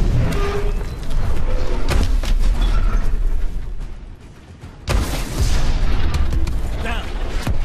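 Heavy naval cannon blasts and booming explosions in the Call of Duty Advanced Warfare Armada mission, loud and rumbling in two big waves with a brief lull between, with voices heard over the din.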